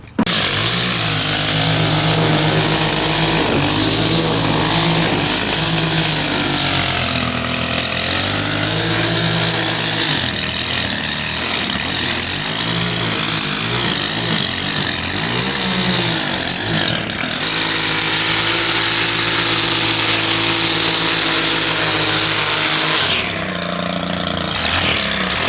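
A gas string trimmer fitted with a Speedfeed 450 head and 130-thousandths line runs steadily near electrical boxes outdoors, a loud continuous engine drone with shifting revs throughout, dropping briefly near the end.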